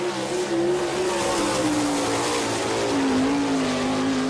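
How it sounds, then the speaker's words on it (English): A sprint car with a J&J chassis and Kistler racing engine laps a dirt oval at an All Star Circuit of Champions race in Chillicothe, Ohio, its engine a loud sustained roar with slowly shifting pitch, heard from trackside. "It's a J&J chassis and a Kistler racing engine."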